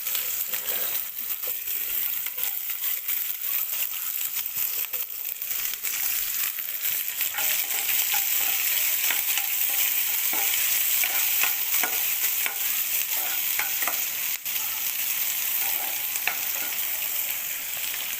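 Onion sizzles and crackles steadily in hot oil with garlic in a pan, a dense, continuous frying hiss with scattered pops and occasional stirring scrapes, heard close and alone.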